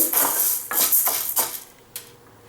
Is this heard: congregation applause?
no